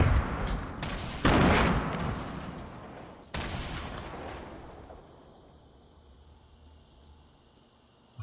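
Grenade launcher firing and grenades exploding in a video game shooter: a few heavy booming blasts with rumbling tails, the loudest near the start, then a later thump fading into quieter distant rumble.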